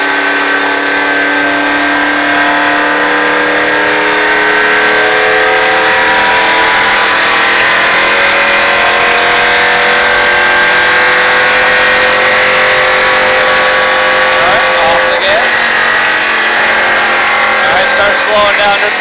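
A race car at the Richard Petty Driving Experience accelerating hard around a track, the engine a loud, sustained high-pitched whine whose tones climb and shift with speed, close and continuous for the whole stretch.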